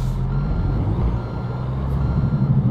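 Steady rhythmic reversing beeps from a truck in American Truck Simulator over a low idling diesel engine rumble, close and continuous.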